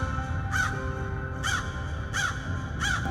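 Four loud, evenly spaced caws from a crow ring out against a low background hum in an animated moral story about thirsty animals during a water shortage.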